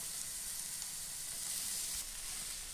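Grated sweet potato frying in a pan gives a steady, even sizzle with a constant hiss that does not change for the whole short clip, with no voices.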